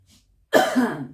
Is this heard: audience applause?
no